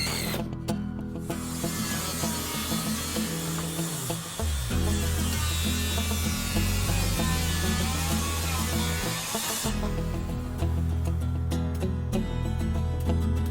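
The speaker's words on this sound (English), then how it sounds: "These screws that Russ is putting in are code compliance timber hanging screws" Power driver sinking code-compliant timber hanger screws into framing wood during a triple-decker house fire reclamation, a loud, close motor whine that rises and pauses in long continuous runs between brief stops.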